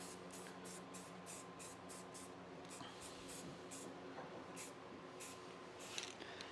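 Aerosol spray paint hisses in repeated short bursts as a thin camouflage coat goes onto a rifle, with a steady background hum throughout.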